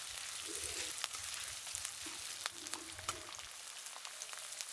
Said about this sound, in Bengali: আদা কুচি আর পেঁয়াজটাকে একটু ভেজে নিচ্ছি।